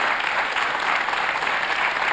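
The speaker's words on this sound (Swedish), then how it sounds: "En lika stor applåd," A studio audience on a Swedish television show claps warmly, dense and even applause that fills the room without a break.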